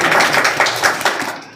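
Audience clapping at a Tamboli community felicitation ceremony in Bhanpura, a steady burst of many hands applauding together that fades out toward the end.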